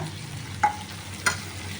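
Ginger-chili paste sizzles in a pan alongside fried prawns for a prawn capsicum curry, a steady low frying hiss with two brief stirring clatters, close and alone with no talk.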